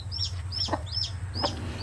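Hens in a chicken coop cluck in quick repeated bursts, fairly close, over a low steady hum.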